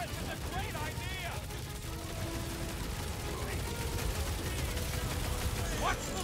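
Rapid turret gunfire from the Guardians of the Galaxy video game rattles steadily through a busy battle mix, with whooshes and effects layered over it.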